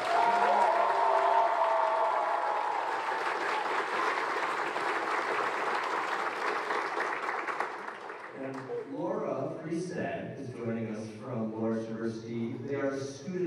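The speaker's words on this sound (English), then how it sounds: "This is a big applause for Nick, who's playing the piano for us." A full auditorium crowd at a high school winter choir concert applauds loudly for the pianist for several seconds, then the clapping gives way to people talking.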